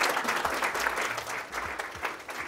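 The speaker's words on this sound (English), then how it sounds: "Please give Marsha a warm round of applause." Applause from an audience at a genealogy day session, a steady broadband patter of many hands lasting a few seconds at moderate loudness, with faint murmurs underneath.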